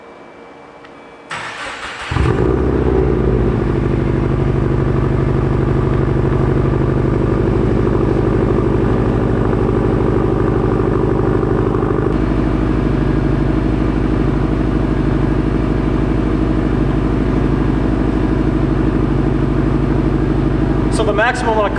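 A 2012 Subaru WRX with an aftermarket exhaust cold-starting inside a shop: a brief starter crank, then the engine catches and settles into a loud, steady, rumbling idle that fills the rest, with a short voice near the end.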